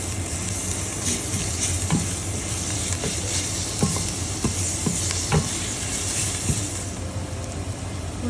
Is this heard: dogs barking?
no